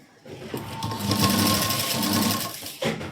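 Sewing machine stitching a folded fabric strip into piping, a steady mechanical whir running close and loud for about two seconds before stopping, then a brief restart at the end.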